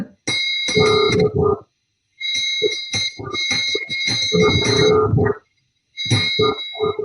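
A tas metal plate struck with spoons in Mauritian geet gawai music, bright bell-like ringing strikes in quick rhythmic bursts with brief pauses between, loud and close with no talking.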